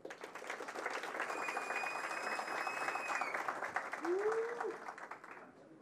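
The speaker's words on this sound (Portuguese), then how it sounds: "gostaria de convidar vocês a receber o Paulo com uma salva de palmas" Audience applause at a deep-tech industry forum in São Paulo, a dense steady wash of clapping lasting several seconds with a brief whistle-like tone partway through, fading out at the end.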